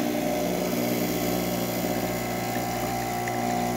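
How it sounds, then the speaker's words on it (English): A Rancilio Silvia semi-automatic espresso machine pulls a shot with a steady, loud pump hum and drone that runs unbroken throughout, close by, with no speech. "We're gonna be doing a shot of espresso."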